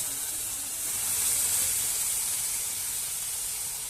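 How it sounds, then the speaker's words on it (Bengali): Boiled milk poured into a hot pan of fried carrots sends up a broad, steady hiss of steam and sizzle that swells slightly and then holds evenly, close and fairly loud. "এবার আমি দুধটা দিয়ে দিচ্ছি"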